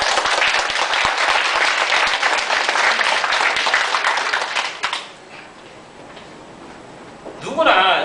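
An audience at a company chairman's briefing breaks into loud, dense applause that holds steady for several seconds, then drops away to quiet room tone before a voice speaks near the end.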